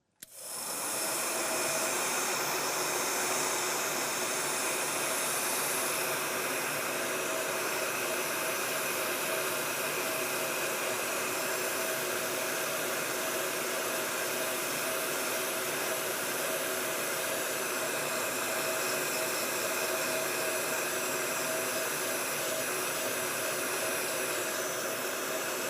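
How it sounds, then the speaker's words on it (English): Heat gun shrinking heat shrink tubing on a DIY reverb tank adapter, a loud steady fan-driven rushing hiss that starts abruptly and runs unbroken for the whole stretch, with no talking. "let's go ahead and fire up my heat gun"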